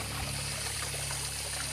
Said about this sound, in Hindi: लास्ट टाइम मैं पानी भर लेता हूँ